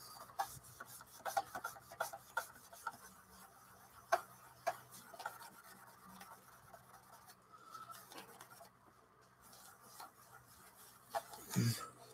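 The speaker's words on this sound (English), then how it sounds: "I might have to sand that off." A model part is rubbed by hand with abrasive, giving soft, faint rasping strokes in short irregular bursts near the mic, with a louder scrape at the end.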